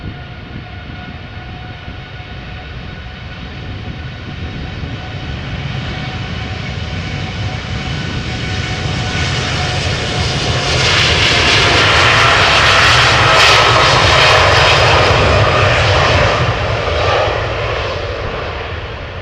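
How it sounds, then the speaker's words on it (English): A United Airlines Boeing 787-8 Dreamliner departs Amsterdam Schiphol, its jet engines roaring continuously and swelling louder as it passes, then slowly fading, with no talking. "So over here we have United Airlines Flight 908, Boeing 7878 Dreamliner outbound to Chicago O'Hare."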